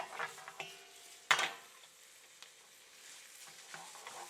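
Ground beef with seasonings is stirred in a pan, giving a faint sizzle with soft scraping strokes and one sharp clatter of a utensil against the pan.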